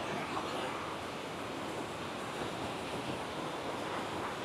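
A waterfall in Chhattisgarh with water rushing down into a gorge, heard as a dense, steady broadband roar that stays constant and enveloping throughout.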